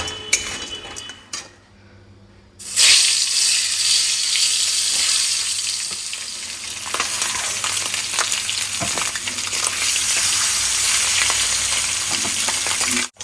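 Bottle gourd curry with lentil dumplings being stirred in a pan, a steady loud sizzle and frying hiss with scattered clinks and scrapes of a utensil against metal, continuous throughout after a brief quieter start.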